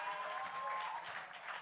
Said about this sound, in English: So y'all can clap for that.